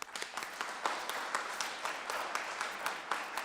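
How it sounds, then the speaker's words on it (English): A congregation gives a round of applause at a church service, a steady wash of many hands clapping at moderate distance with no voices over it. "let us give them a round of applause."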